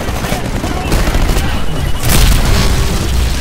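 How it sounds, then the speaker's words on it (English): A Titan being destroyed in the video game Titanfall, with heavy booms and rapid gunfire bursts building to a loud explosive blast near the end, dense and continuous throughout. "Pilot, your Titan's been destroyed."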